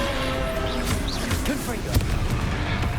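A Confringo fire-blast spell is cast in Hogwarts Legacy on PS5 during combat. Booming impacts and crashes sound amid a busy battle mix, while voices call out under the blasts.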